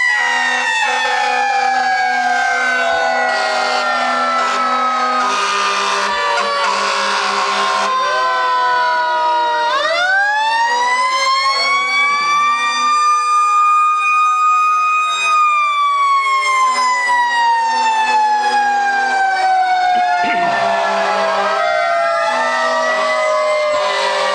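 Fire engine siren wailing at a high school homecoming parade in 2015, rising and falling loudly and close by for the whole stretch, with an air horn blast between the wails.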